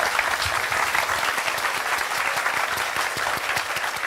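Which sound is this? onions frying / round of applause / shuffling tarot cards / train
round of applause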